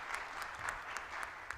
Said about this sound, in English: Would you please give Pascal a big round of applause?